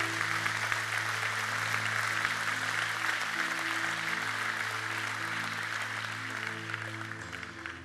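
A church conference congregation breaks into sustained, dense applause that holds steady for several seconds over a low, droning musical tone, easing slightly near the end.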